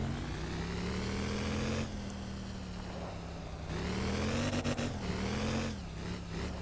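A 100-horsepower car engine in the video game Motor Town hums steadily with rising and falling revs, shifting pitch as it accelerates and eases off, loud and continuous throughout.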